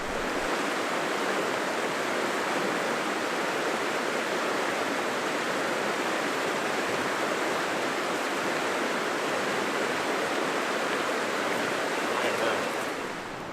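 A murky, swollen trout stream in Idaho winter rushes steadily, a dense, even roar of flowing water that holds constant and close throughout with no break.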